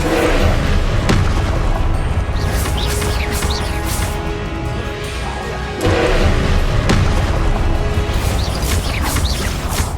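Confringo blasting spells in Hogwarts Legacy go off as a run of heavy booms and crashes, loud and close, with a brief lull midway before more impacts resume.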